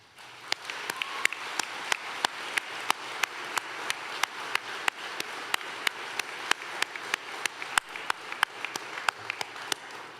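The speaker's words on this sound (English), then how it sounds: "Please join me in a round of applause for our families, friends, and shipmates who played a large part in our sailors' successes." A naval training unit's graduation audience applauds throughout, a sparse scattering of individual hand claps repeating steadily at a moderate distance in a large hall, with no talk over it.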